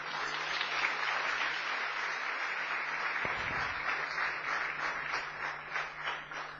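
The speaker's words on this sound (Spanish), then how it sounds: "Demos un aplauso al Rey" Steady applause from a church congregation fills the space, a dense continuous patter of many hands with a low hum underneath and a brief thump partway through.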